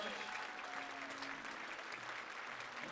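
Sustained applause from an indoor audience honoring servicemen, a dense, even clapping that fills the room at steady volume throughout.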